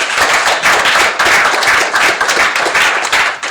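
Audience welcoming a poet to the stage with loud, close applause, a crowd clapping in dense swelling bursts that rise and dip rhythmically over a few seconds.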